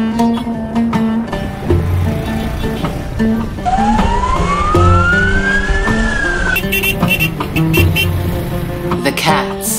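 Busy Cairo city street traffic with a steady engine roar, car horns and a siren rising in pitch for several seconds, loud and close, with music and a voice over it.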